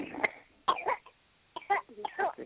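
A baby coughs close by in several short, wet bursts separated by brief silences.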